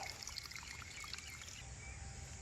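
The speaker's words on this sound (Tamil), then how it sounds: "இதை கழட்டி விட்டோம்னா தண்ணி ஓடும்" Water runs steadily along a channel in a village garden, a constant close gurgling trickle and rush with faint birdsong above it.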